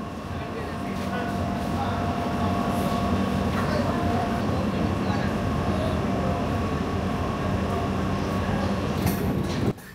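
A passenger train, the Panchagarh Express on the Dhaka to Panchagarh line, pulls out of Dinajpur station in Bangladesh, giving a steady loud rumble of rolling stock heard from onboard, with some voices in the background.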